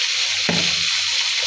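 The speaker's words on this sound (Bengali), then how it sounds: "মশলাটা ভালো করে কষিয়ে নিব।" Turmeric, chili and coriander powders with tomato, green chili and cumin paste sautéing in a pan for a pangas fish curry, a close, steady frying hiss with a brief clunk of stirring partway through.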